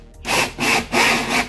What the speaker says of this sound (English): Gonna put the drill bit on my markings. Start drilling the hole.